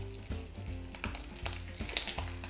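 Sea bream sizzling skin-down in hot oil in a strongly heated pan, a steady close crackle and spatter with small bursts, alone with no talk.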